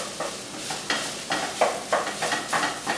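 Fish fried rice with egg is stirred in a hot pan in quick rhythmic strokes, each scrape bursting over a constant close sizzle, about eight strokes in a few seconds.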